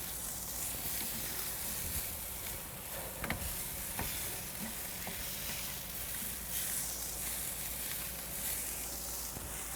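Beef burgers sizzle on an outdoor grill in a steady, close hiss that fills the whole span, with faint ticks and no talking.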